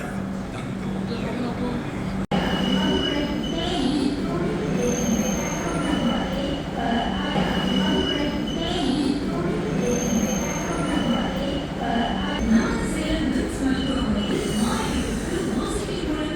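A train at a railway station in Tamil Nadu rumbles loudly and continuously, with steady rolling noise and faint squeals throughout, close by.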